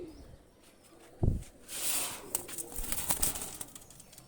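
Pakistani high flyer pigeons cooing softly at close range, with a low throaty coo and light rustling or wing movement around them.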